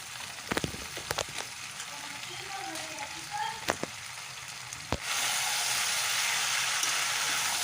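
Boiled Malabar spinach with green chillies sizzling in hot oil, with a few sharp stirring clacks early on, then a sudden jump to a louder, steady frying hiss partway through; a faint voice sits beneath.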